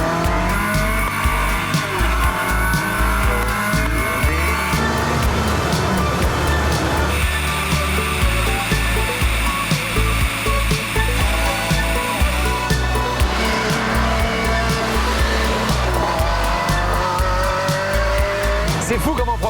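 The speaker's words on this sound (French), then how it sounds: "on a le temps d'entendre le changement de vitesse" A Ferrari 360 Spider is driven hard. Its engine note rises and drops sharply several times with each gear change, along with tire squeal and skidding, and the loud sound is continuous throughout.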